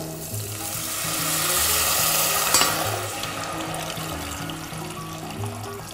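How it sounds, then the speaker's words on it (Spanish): Water poured from a small jug into a hot cooking pot, giving a close, steady hiss and sizzle that swells in the middle and carries on for several seconds. "Y ahora ya le vamos a echar el agua"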